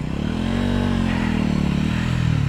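A motorcycle strains up a steep off-road hill track on Parasnath Hill in Jharkhand, its engine a loud, close, unbroken labouring drone that rises and falls in pitch under heavy throttle.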